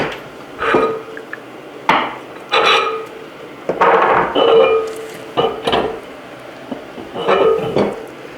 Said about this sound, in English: to break a bead with a Harbor Freight tire changer or Pittsburgh tire changer